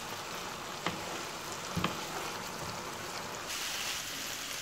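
Chilli soya beans with spring onion are stirred in a hot pan, giving a steady sizzle broken by two brief spatula knocks, with no talking.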